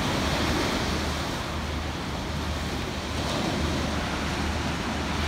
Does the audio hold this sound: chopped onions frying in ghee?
no